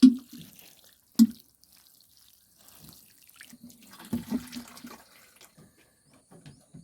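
Water dripping and splashing while sunflower sprouts are watered: sparse, faint drips and small splashes at irregular intervals, a couple of sharper plops among quieter trickles.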